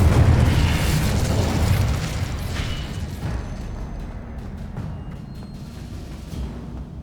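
A fiery Incendio spell blast from Hogwarts Legacy, a loud booming burst of roaring flame that starts strong and then settles into a sustained rumbling crackle that fades gradually.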